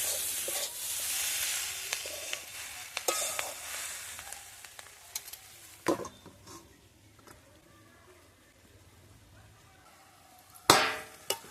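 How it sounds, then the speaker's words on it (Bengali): Egg bhurji with spring onions stirred in a pan: a bright sizzle that fades over time, punctuated by scattered spatula scrapes and knocks, with a loud clatter near the end. "মিনিট পাঁচেক পরে আমি খুলে আবারও একটু নেড়ে দিচ্ছি"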